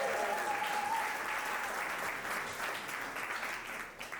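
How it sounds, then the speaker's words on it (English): Audience applause fills a community-building talk as it wraps up, a steady wash of clapping from a crowd that holds for about four seconds and slowly tapers. "Big round of applause."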